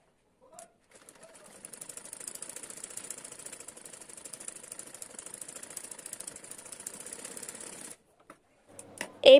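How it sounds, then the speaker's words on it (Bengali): Sewing machine stitching a lehenga blouse, a steady fast mechanical whirr running for about seven seconds close up, then stopping, followed by a few brief handling clicks. "এবার আমি গলার দিকেও সেলাই করে নিব।"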